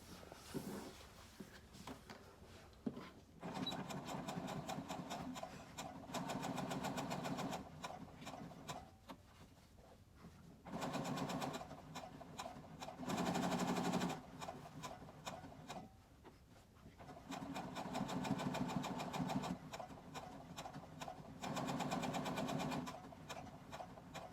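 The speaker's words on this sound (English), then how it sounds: "So I'll just be sewing along the top edge." A sewing machine stitches the top edge of a pleated tote bag, running in several long steady bursts of rapid mechanical whirring separated by short pauses, close and clear with no talk.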